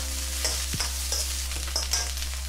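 Cantonese fried rice is stir-fried in a pan with soy sauce and garlic, giving a steady sizzle broken by repeated scraping strokes as the rice clumps are broken up, with a low steady hum underneath.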